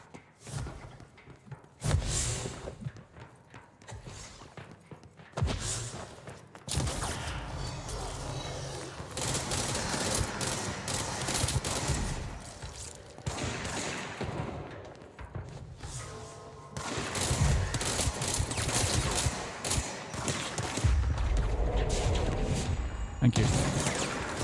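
Gunfire and impacts from the video game Control, with bursts of shots and heavy thuds running through a busy, loud game mix, while someone talks over parts of it.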